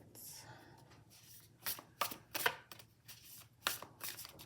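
Tarot cards being shuffled by hand, a run of soft papery riffles and sharper flicks in irregular bursts, close and fairly quiet, with a voice speaking briefly.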